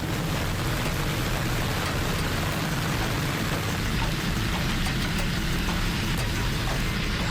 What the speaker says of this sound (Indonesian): Hujan deras yang mengguyur ibu kota sejak tadi malam juga membuat Jalan Ahmad Yani Cempaka Putih Jakarta Pusat terendam banjir